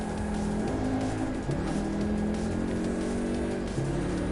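A car engine and exhaust in the racing game Gran Turismo Sport drone steadily and loudly throughout, the pitch shifting slightly as it revs, with no talk.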